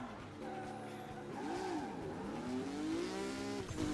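A car in a racing video game drives with its engine revving and rising in pitch, tires squealing through a skid, loud and continuous for the whole stretch.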